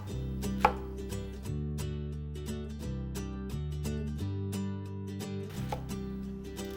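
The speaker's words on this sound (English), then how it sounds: "So I'm going to chop it about the size that you saw me chop the onions" A kitchen knife chops vegetables into bite-sized pieces, a little bigger than diced onion, while making meatloaf; a steady run of crisp cutting taps sits over a constant background hum, with one sharper knock early on.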